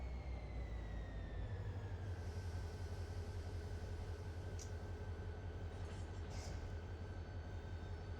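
A diesel freight locomotive in the Run8 Train Simulator game throttles down, giving a continuous low engine rumble with a faint whining tone that slides lower partway through.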